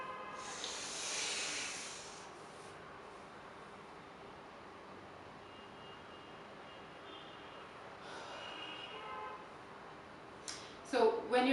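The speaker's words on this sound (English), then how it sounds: "You inhale," A deep inhale through the nose during yoga bandha practice, a soft hissing breath early on, then a long quiet hold with faint background noise, and a brief voice near the end.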